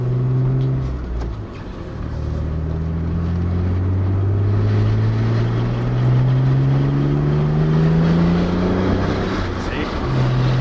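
Inside a moving Mitsubishi 3000GT, the engine drones loud and close, its pitch climbing smoothly through long pulls with a brief dip between, while people talk over it.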